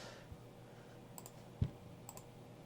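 A single computer mouse click, sharp and brief, in an otherwise quiet room, accompanied by a few faint lighter clicks.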